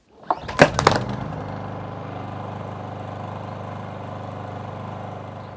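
A portable generator's engine is pull-started with a rope, giving a few sharp cranking bursts before it catches and settles into a steady, continuous idle hum close by.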